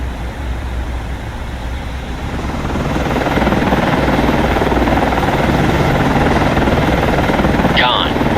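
A naval helicopter in Cold Waters comes in to land on a ship, its steady rotor and engine roar building and holding loud and close, with a short burst of talk near the end.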